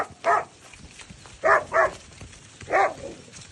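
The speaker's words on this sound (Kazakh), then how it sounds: "Әні бізді иттер келе жатыр." Dogs bark at a cattle herd being driven out to pasture in the morning, giving a quick bark, a pause, then two barks in a row and one more after another gap, fairly close and loud.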